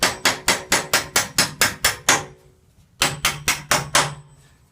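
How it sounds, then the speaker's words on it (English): A small hammer drives carriage bolts into a wooden chair during assembly, with about a dozen sharp, evenly spaced taps, a brief pause, then another quick run of five strikes, loud and close. "I'm going to use a small hammer to drive the carriage bolts all the way in."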